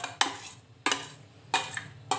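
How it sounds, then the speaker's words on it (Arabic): Fish being marinated, with three sharp clattering scrapes of a utensil against a dish at a steady interval, quiet and close with no voices. "ننزل بقى بالتتبيله بتاعتنا على السمك"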